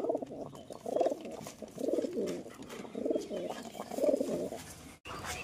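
Low, rolling coos of a Desi Giribaj pigeon repeat in a steady series of throaty phrases, close by, with a brief break near the end.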